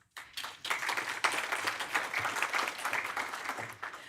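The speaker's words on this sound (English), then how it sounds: "Let's give a round of applause." Audience applause at a conference panel in Riga, many hands clapping steadily and fairly close for about four seconds after a brief quiet start, with no voices over it.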